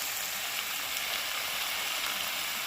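Malabar spinach with dried fish sizzles in a pan, a soft, steady frying hiss heard close up without pause.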